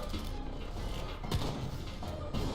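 Ship weapons fire in the Ironcast steampunk combat game: a steady rumble of cannon fire, with a heavier thud near the middle and another burst near the end.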